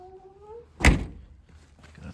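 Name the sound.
vehicle door of a VW bus not fully shut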